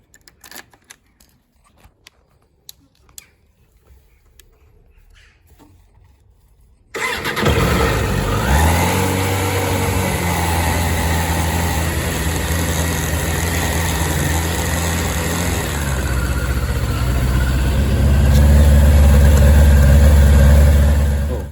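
A 1996 Suzuki RF900R motorcycle fitted with a new exhaust cranks and fires after several seconds of quiet clicks and handling noises, then settles into a loud, steady idle with a deep throb that swells slightly toward the end.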